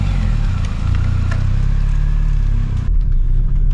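A Mini's engine rumbles loudly and steadily while driving with a faulty clutch slave cylinder, a low close drone that shifts briefly near the end.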